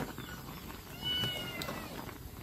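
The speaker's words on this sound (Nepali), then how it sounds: "यो बिरालो नि कहाँदेखि आएको यो बिरालो" A stray cat in a home kitchen where chowmein is being cooked gives a faint, short meow midway, over a quiet, hissy background.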